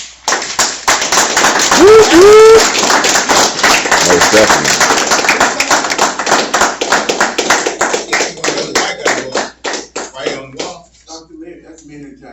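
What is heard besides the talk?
audience clapping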